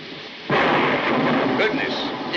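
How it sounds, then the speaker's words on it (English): A thunderclap during a thunderstorm, bursting in suddenly after a quiet start and then rolling on as a loud, sustained rumble with crackling texture, heard close. "I love thunderstorms, don't you?"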